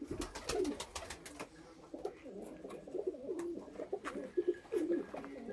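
Fancy Sialkoti pigeons cooing close by in repeated soft throaty phrases, with occasional sharp clicks and fluttery noises, and no talking.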